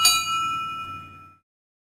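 One bright metallic ding rings out from Toby the tram engine's bell in a Thomas and Friends cartoon, struck once and ringing clearly before fading away in just over a second.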